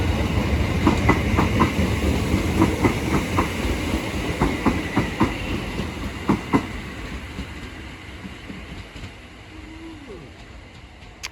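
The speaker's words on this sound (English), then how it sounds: "Now arriving is the 1357 Southern service from London Bridge to Colston Town, being worked by a class 455" Southern class 455 electric train pulling into Sydenham station, wheels clattering rhythmically over rail joints, loud and near at first, then slowing and fading, with a brief squeal near the end.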